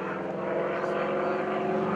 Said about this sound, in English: the sound that you're hearing is not the engine. That's the propeller tips as they go supersonic